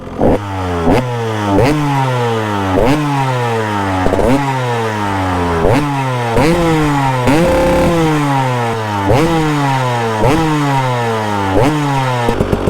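A KTM 300 EXC dirt bike with its standard exhaust revs loudly and close by, the engine climbing and dropping in a steady run of repeated throttle blips with no pause.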